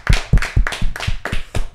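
People on a podcast clap for a few seconds, about seven sharp, close hand claps in a loose, uneven rhythm, with no talking.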